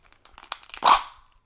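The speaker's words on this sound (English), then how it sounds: "Let's take the tape off." Packing tape ripped off a shipping box of carnivorous plants, a few crinkling rustles and then one loud, close tearing pull that fades out quickly.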